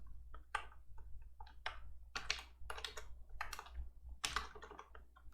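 Rapid, uneven keystrokes on a computer keyboard, a steady run of close, crisp clicks and taps over a low constant hum, with no voices.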